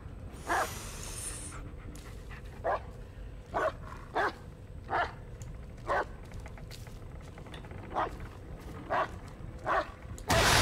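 Dog in the Blair Witch video game barks repeatedly in short, evenly spaced bursts over a low ambient background, with panting and whimpering between barks.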